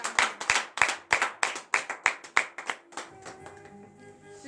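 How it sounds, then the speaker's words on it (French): A congregation at a morning prayer service in Comè, Benin claps in a steady, brisk rhythm of about a dozen sharp, close claps. The clapping then stops and a sustained tonal accompaniment carries on alone. "Frères et sœurs en Christ, donnez de vives acclamations."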